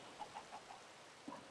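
Minecraft chicken clucks, several short soft clucks repeating in an even rhythm, faint and somewhat distant, with a slightly louder cluck near the end over a quiet game ambience.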